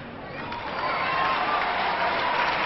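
A large arena audience applauds a gymnast at the 1997 World Gymnastics Championships event finals, a dense, steady wash of clapping that swells slightly and holds throughout.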